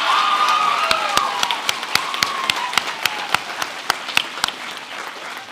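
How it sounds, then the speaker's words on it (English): A school audience applauds at an arts and culture awards assembly, a burst of clapping with some cheering and voices early on that thins into a few scattered, distinct claps fading toward the end. "Let's give these two a wonderful round of applause."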